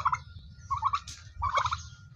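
Two turkeys gobble in repeated bursts as they come in for feed, close by and loud, with short pauses between calls.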